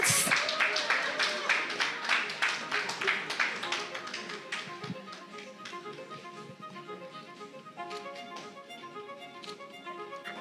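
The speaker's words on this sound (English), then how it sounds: "Come on, let's clap." Audience at a female MSME award ceremony clapping for category runners-up, a burst of brisk, close hand claps that thins out and fades under tonal background music.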